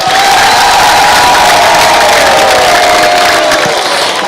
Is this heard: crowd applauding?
yes